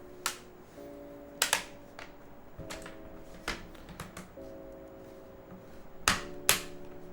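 A GamaKay LK67 mechanical keyboard case is pressed back together, giving a handful of sharp plastic snaps and clicks, some in quick pairs, close and fairly quiet over a faint background hum.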